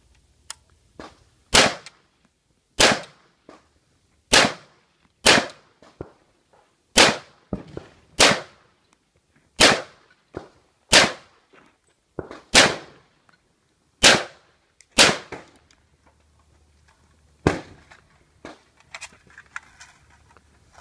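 AR-15 rifle firing at a shooting range, about fifteen sharp loud reports spaced roughly a second apart in a fairly steady string, with no talking.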